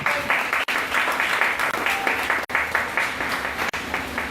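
A church congregation claps steadily through a worship gathering, dense sustained applause close and loud, with brief gaps where the clapping momentarily drops out.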